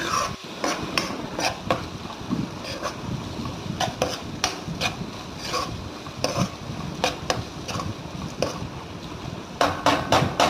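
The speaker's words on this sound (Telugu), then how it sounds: "అల్లం చిల్లుల్లి పేస్ట్ పచ్చివాసన పోయేదాకా ఫ్రై" Ginger garlic paste fries with curry leaves and turmeric in a pan, heard as a busy run of sharp spatula clanks and scrapes against metal over a low sizzle, close and continuous.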